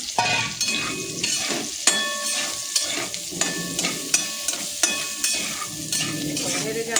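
Soybean chunks fry in oil in a pan, a steady close sizzle broken by regular metallic scrapes and clinks of a spoon stirring them, repeating roughly every second with no talk.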